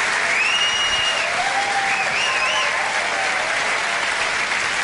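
Steady, loud audience applause from a large crowd at a Tim Vine stand-up comedy show, a dense unbroken wash of clapping with a few faint cheers and whistles rising above it.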